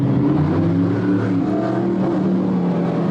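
Super modified race cars tearing off turn four on an oval track, a loud continuous engine roar with droning, overlapping exhaust tones and no pause.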